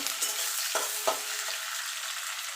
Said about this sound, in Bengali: পেঁয়াজটাকে একটুখানি নাড়াচাড়া করে নেব